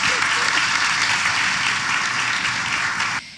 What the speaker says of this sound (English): Please, another round of applause for Torben and Kevin.